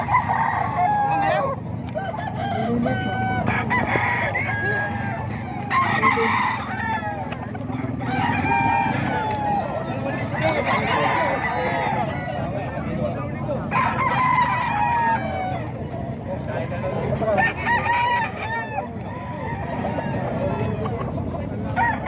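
Roosters at the Bocaue chicken market crow again and again, loud overlapping calls from several birds near and far, with clucking and people talking throughout.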